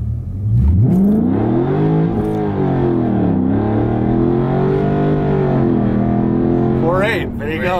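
A Dodge Challenger Scat Pack launching hard from a standing start, its engine roaring loud and close as it revs and climbs through a gear with wheelspin, ending in a short burst of higher revs.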